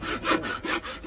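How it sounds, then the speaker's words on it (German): A pull saw made for branches cuts through soft wood blocks in a steady back-and-forth rhythm, each rasping stroke close and fairly loud, with no talking. "ist eine Zugsäge, eigentlich für Äste gemacht, aber funktioniert ganz gut"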